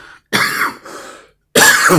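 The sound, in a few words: cough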